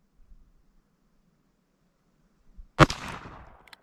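A single sharp, loud crack from a Ruger Single-Six revolver firing a .22 Magnum round, with a short ringing decay after a near-silent lead-in.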